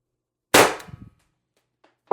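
A TR50 CO2 air rifle running on a 90 g CO2 cylinder fires one sharp, close shot that rings and fades over about half a second, followed by a faint small click and a second brief snap.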